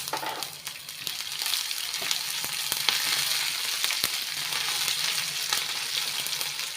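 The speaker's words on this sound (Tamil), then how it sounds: "இது மூணுமே நல்லா ஃப்ரை பண்ணி விட்டுக்கோங்க கொஞ்சம் பொரியட்டும்" Tempering of dried red chillies crackles and splutters in hot oil for uppu urundai, a steady close-up sizzle with scattered pops and no talking.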